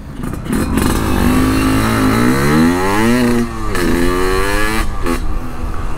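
A 135cc imported two-stroke motorcycle revs hard nearby, its crackling exhaust climbing and falling in several sweeping pitch rises with a brief dip between bursts, loud and continuous.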